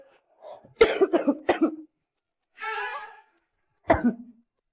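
Several harsh coughs from one person with fever and a cold nearby: a quick cluster, a brief pause, then a single throaty cough after a short gap.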